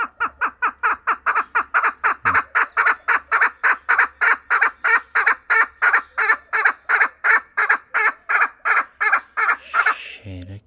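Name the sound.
chickens clucking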